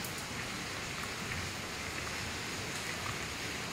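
Steady rain pours down outdoors at night with wind moving through the trees, a dense continuous hiss with no voices, fairly close and even throughout.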